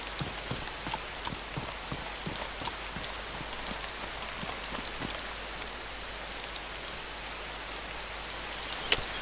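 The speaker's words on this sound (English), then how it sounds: "Rain doesn't affect us at the moment." Steady rain pours in the survival video game DayZ, a dense even hiss of drops on surfaces running throughout at moderate, constant loudness, with no voices and one brief tap near the end.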